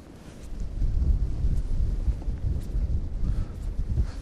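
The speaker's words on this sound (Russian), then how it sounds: "Ветер сейчас сильный." Strong wind at a riverside fishing spot buffets the microphone with a low, rumbling roar that swells and gusts unevenly for several seconds.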